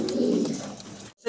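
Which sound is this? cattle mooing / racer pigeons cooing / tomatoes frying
racer pigeons cooing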